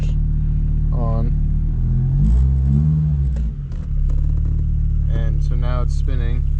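A Volvo car engine idles with a loud, steady low rumble throughout, while someone talks over it.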